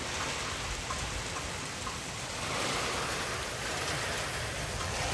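Heavy thunderstorm rain with big drops pours down in a dense, loud, continuous hiss, steady throughout with no voices.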